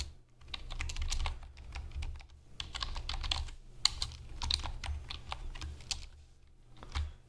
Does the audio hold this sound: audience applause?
no